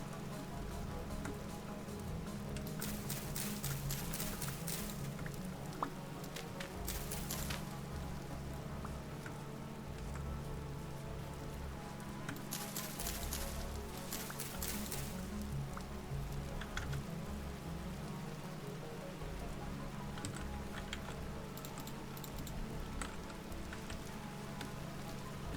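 Steady rain pattering on surfaces in the Vintage Story survival game, a continuous dense hiss with scattered louder droplet ticks and brief gusty bursts, no voices.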